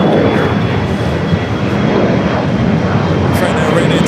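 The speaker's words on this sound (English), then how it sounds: "Frontier A320 Neo now pushing back onto" A Frontier Airbus A320neo jet pushes back at LAX, giving off a steady, loud, broad engine roar that holds throughout without a break.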